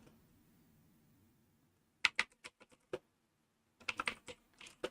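Close, clicky keystrokes on a computer keyboard come in two short bursts after a quiet, faintly humming pause, the second burst denser and faster than the first.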